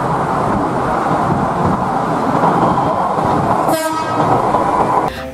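A toy high-speed train runs with a loud, steady rumbling whir, then gives a brief horn-like tone near the end and a short burst just before it stops.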